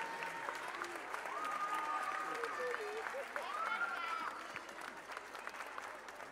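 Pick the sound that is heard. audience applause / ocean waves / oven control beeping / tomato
audience applause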